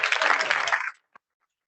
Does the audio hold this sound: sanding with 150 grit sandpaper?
no